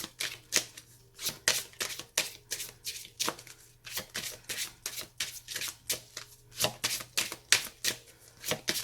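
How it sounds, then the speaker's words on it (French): Tarot cards are being shuffled by hand, with a quick, continuous riffle of crisp papery flicks and slaps in an uneven rhythm, close and fairly quiet, with no talk. "Donc on va bien mélanger et ensuite on piochera les cartes."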